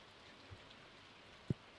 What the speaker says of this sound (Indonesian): Hujan, mantap.